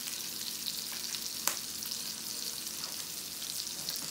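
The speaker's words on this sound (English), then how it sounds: "we're gonna cook this pork sausage in brown butter for about 4 minutes on both sides" Homemade pork sausage frying in brown butter in a pan, a steady close sizzle with a single sharp tick partway through.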